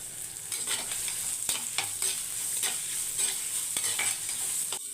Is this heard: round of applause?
no